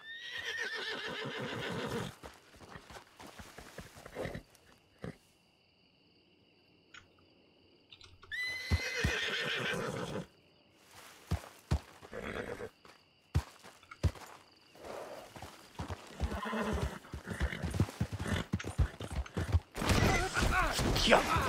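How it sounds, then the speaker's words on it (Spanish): A horse in the Red Dead Redemption roleplay game whinnies repeatedly, with clip-clopping hooves and scattered clatter between calls and a quiet stretch in the middle. "Escucho un caballo."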